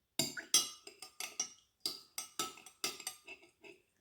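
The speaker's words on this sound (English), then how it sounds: "Stir it around, make sure they're properly melted." Melted wax melts being stirred in a container, a quiet run of about a dozen separate clinks and taps as the utensil strikes the sides, irregular but fairly steady, close and alone.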